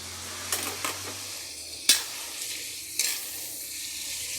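Chopsuey with oyster and tomato sauce stir-fries in a pan, a steady sizzle broken by a few sharp scrapes and clanks of a spatula as the vegetables are tossed, with no talk.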